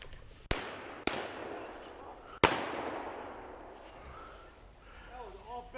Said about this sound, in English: That was an off-balance shot.